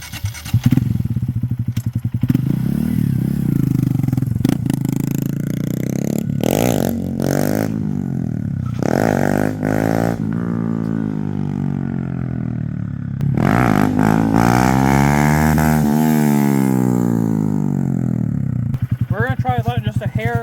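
A 2025 Honda Grom fitted with an iStunt exhaust revs repeatedly, its loud, close engine note rising and falling through several throttle blips over a steady idle.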